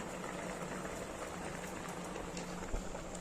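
Clams boiling in a pot of water, a steady, continuous bubbling hiss that holds at an even level throughout, with no one speaking.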